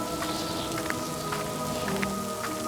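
Heavy rain pouring steadily onto a surface, a dense constant patter with occasional louder drops, no voices.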